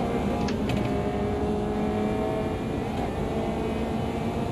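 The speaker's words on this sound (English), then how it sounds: "You're getting everything from these lightweight" A lightweight classic race car engine in the racing game Automobilista 2, on a classic-mod track, drones steadily at a near-constant pitch throughout, with no speech.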